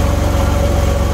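Car engine with a new muffler and exhaust pipe idling, a steady, close, even low drone with no talk.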